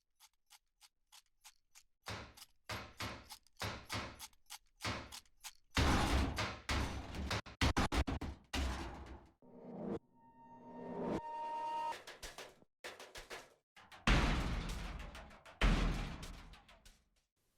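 Isolated percussion from a League of Legends login screen, a homemade instrument built from bought hardware: sharp clicking hits gathering into rhythmic pounding drum patterns with metallic ringing tones, loud and close.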